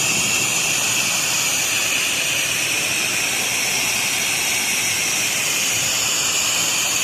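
A pressure washer rinsing the exterior of a very large house, a loud, continuous high-pitched spray hiss with a steady engine drone underneath, unbroken throughout.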